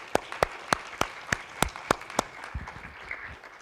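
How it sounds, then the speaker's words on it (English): Students at a high school freshman orientation clap for themselves, starting as a run of sharp, evenly spaced claps from a few hands that thins into softer scattered claps toward the end. "Can you give yourselves a big round of applause for doing that?"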